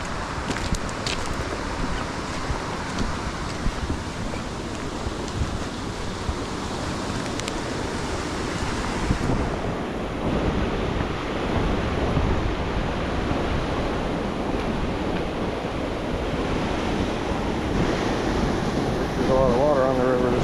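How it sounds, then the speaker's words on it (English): A river running high with fast-flowing water, a steady broadband rush throughout with some wind buffeting on the microphone. "There's a lot of water on the river this morning."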